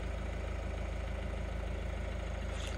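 A Peugeot 308 GT's 1.5 diesel engine ticks over at idle, a close, steady, even low throb with a faint knocking rhythm and no voices.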